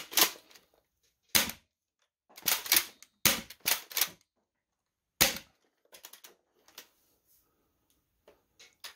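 Game Face Trion foam blaster firing worker darts, a run of sharp mechanical snaps and thumps, close and loud, several shots spaced apart with a few fainter clicks between them.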